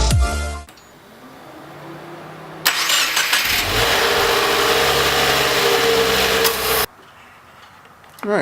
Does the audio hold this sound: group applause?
no